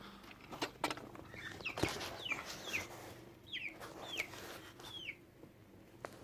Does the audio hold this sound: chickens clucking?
yes